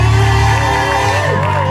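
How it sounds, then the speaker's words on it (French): A church congregation at a Sunday service cheers and shouts for joy, a steady wall of crowd noise with voices rising over sustained music. "est-ce que tu peux pousser les cris de joie?"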